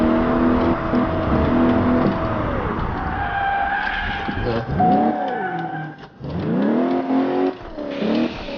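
A car in the Crash Time 4 video game revs its engine, then brakes hard and skids, with long tire squeals rising and falling in pitch over a steady loud engine drone, close and continuous.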